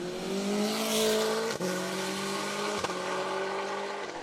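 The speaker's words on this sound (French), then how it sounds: "Au volant de son Simca CG Turbo, Christophe Poinsignon prend la 4e place du classement général." A Simca CG Turbo race car at the Saint-Gouëno hill climb: a steady, high engine drone holds throughout, with two brief dips where the gears change, heard at moderate distance with no talking.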